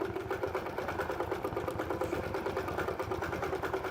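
A 16x Elite longarm quilting machine stitches a pebbling design, a steady fast mechanical hum with rapid rhythmic needle chatter, close and constant throughout.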